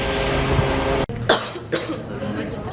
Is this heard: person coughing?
yes